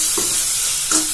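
Ginger garlic paste hits a hot pan of leftover-rice stir-fry, giving a continuous bright sizzle broken by two short stirring scrapes, close and alone.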